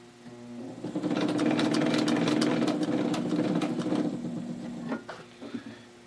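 The tire of a running sewing machine with a continually rotating bobbin hook grumbles and whirs close by for several seconds, a quiet rapid mechanical rattle that winds down near the end.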